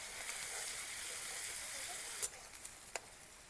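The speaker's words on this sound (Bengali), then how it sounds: "পেঁয়াজটাকে একটুখানি ভাজা ভাজা করে নেব।" Chopped onion frying in hot oil in a pan, a steady soft sizzle and hiss throughout, with a few light clicks of stirring near the end.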